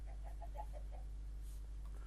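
Soft, quick series of chicken clucks from Minecraft chickens on a farm, faint and fading out after about a second.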